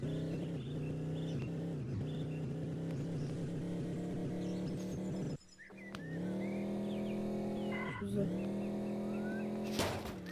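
Engine of a car in a driving simulator game drones steadily and loudly, with pitch dips where it skids and lurches, then briefly cuts out before the revving resumes.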